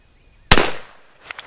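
A single loud, sharp shot from a Remington black powder revolver firing .45 Colt loaded with 32 grains of black powder, a sudden blast with a short ringing decay, close by.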